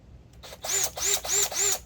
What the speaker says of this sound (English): it does work at taking my lug nuts off after I break them loose, and putting down my level jacks